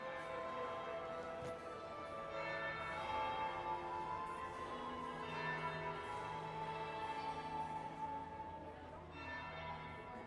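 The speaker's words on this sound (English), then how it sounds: "That would be the second bell." A church-like bell tolls steadily with sustained ringing tones in a fantasy game setting, the Dragon Age Inquisition ballroom party, heard alone at a moderate level.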